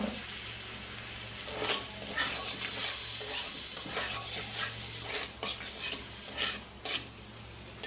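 Boiled pasta fried with eggs in a pan crackles and sizzles steadily while a spoon scrapes and stirs in repeated strokes, close by and moderately loud.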